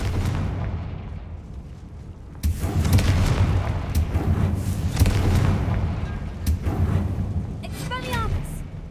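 A Confringo fire spell blasting in Hogwarts Legacy, a loud booming burst that rumbles on for several seconds, with a spoken voice and a few crackling effects near the end.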